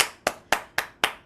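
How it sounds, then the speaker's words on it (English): Steady rhythmic handclapping, five sharp, evenly spaced claps close by and alone with no talk, like an audience member clapping along after a talk-show interview. "round of applause."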